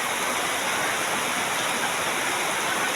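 Heavy rain pours down with floodwater flowing through a street in Barangay Santa Elena, a loud, steady broadband rush that holds without a break and has no voices.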